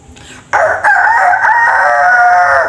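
A person imitates a rooster crowing: one loud, drawn-out, wavering cock-a-doodle-doo call, close and clear, with nothing else behind it.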